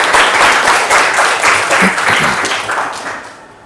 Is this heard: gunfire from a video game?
no